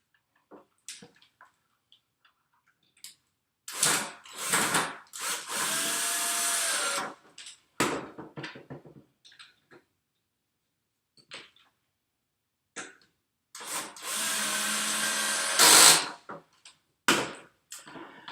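A power drill drives two screws into a crossbar during furniture assembly. Two loud, sustained whirring bursts are separated by a quiet pause, with scattered clicks and handling knocks around them.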